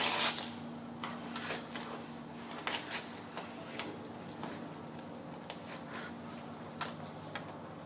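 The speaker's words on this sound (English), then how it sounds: "utility knife and just cut it" A utility knife slices through mohair with a series of faint, sharp scratchy strokes at an irregular pace, close and quiet, with no voices.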